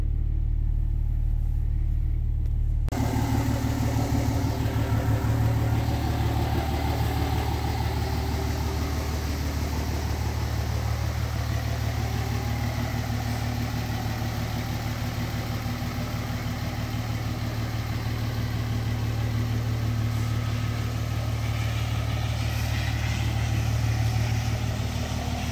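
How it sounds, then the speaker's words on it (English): The Cummins diesel in a fourth-gen Mega Cab truck idles with a deep, steady, close rumble that holds unchanged for over twenty seconds after a brief quieter moment at the start. "Certified diesel power."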